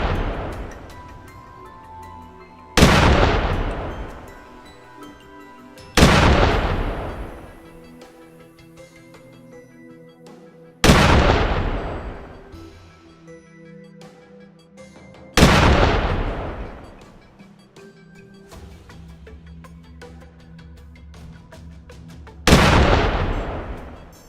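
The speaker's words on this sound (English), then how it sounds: "A series of shots rang out and the boars scattered." Five loud, sharp gunshots ring out during a wild boar hunt, spaced several seconds apart, each with a booming report that echoes and decays slowly between shots.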